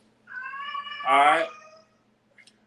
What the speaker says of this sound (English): And that's my cat in the background.